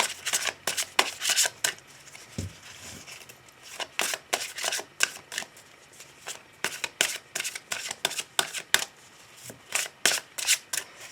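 A deck of tarot cards shuffled steadily for a reading: rapid, crisp papery riffles and slaps repeat in close bursts, near and fairly loud, with no talking.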